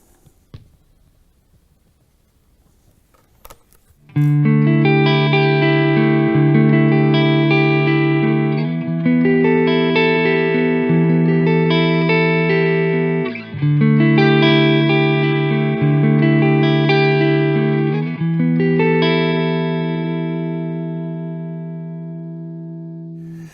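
Clean electric guitar tone through a solid-state amp, ringing out bright, sparkling, American-style sustained chords in a slow repeating pattern, with light reverb and no talking.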